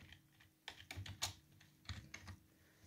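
Keystrokes on a computer keyboard while entering commands in MS-DOS DEBUG, in quiet, irregular bursts of clicks with short pauses between them, with no voices.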